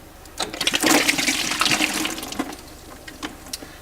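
Water gushing and splashing into a bucket as a boiler is drained during an annual service, a loud, continuous pour close by that tapers off toward the end.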